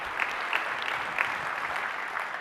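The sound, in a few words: audience applause at keynote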